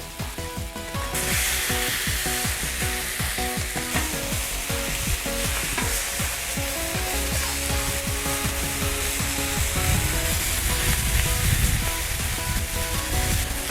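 Shrimp sizzle in oil on a Cuisinart 360 griddle, a steady loud frying hiss with scraping and stirring clatter from a spatula throughout, no talking.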